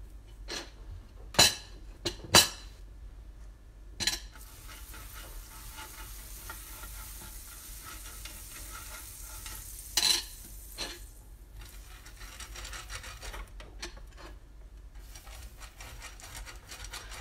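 Butter greasing a preheated waffle iron, a faint steady sizzle under a few sharp metallic clicks and knocks of utensils against the appliance, with no voices.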